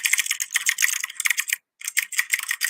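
Rapid keyboard typing heard up close, dense clattering keystrokes in quick runs broken by one brief pause, alone without speech.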